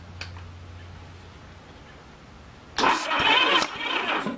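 A 1981 Honda GL1100 Goldwing engine cranks over on the starter during a compression test. Quiet hum is followed by a sudden loud, steady, close churning that runs for the last couple of seconds.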